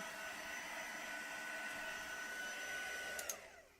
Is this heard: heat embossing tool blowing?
yes